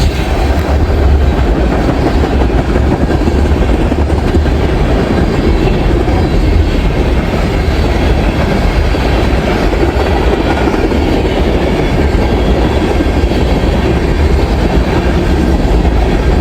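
A mixed freight manifest train with many tank cars rolls eastbound past the tracks at Rochelle, Illinois, a loud, close, continuous rumble with rattling wheels and clanking cars throughout, no voices.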